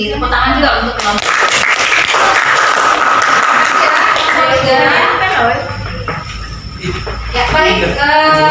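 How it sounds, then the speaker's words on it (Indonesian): A classroom audience claps for a presenting student group in a school lesson, a dense ongoing patter of applause with a teacher's voice speaking over it. "dari tepuk tangan juga untuk kelompok"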